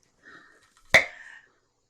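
A single sharp pop as a pickle jar lid breaks its seal on first opening, followed by a brief hiss of released air; near and clear, with a faint rustle just before.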